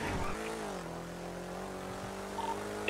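A car engine hums and revs in the role-play game GTA NoPixel, a steady, moderately loud drone that shifts pitch as it drives, with no talk.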